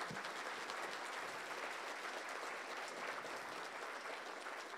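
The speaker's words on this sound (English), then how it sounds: "So we have a round of applause, please." Steady, dense applause fills a conference room after a talk on mobile codebases, loud and sustained throughout with no voices standing out.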